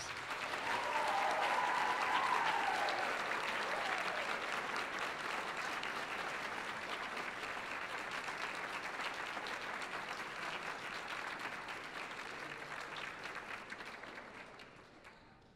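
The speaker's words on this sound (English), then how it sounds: "Can we all give them a big round of applause, please?" A school choir concert audience at Winton Woods High School gives sustained applause, a broad even wash of clapping that swells early, holds for about fifteen seconds, then tapers off toward the end.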